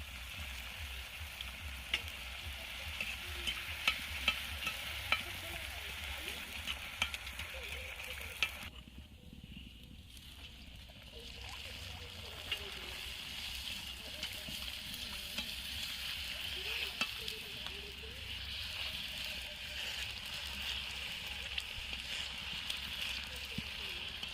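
Fuchka puris frying in hot oil give a steady, continuous sizzle for the full stretch, with a brief dip partway through and a faint voice speaking underneath at times.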